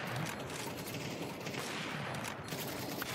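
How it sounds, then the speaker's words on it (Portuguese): Dense, continuous automatic gunfire from a Counter-Strike 2 match in a professional FURIA vs Aurora game, loud and unbroken rattling bursts layered over each other for the whole stretch, with no talk. "Como os tiros do Fallen não pegaram ali, maestro?"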